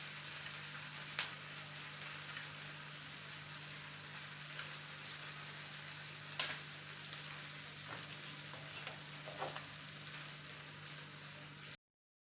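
A bottle gourd chilla sizzles in oil in a pan after being flipped, with a steady, fairly quiet frying hiss and a few scattered crackles.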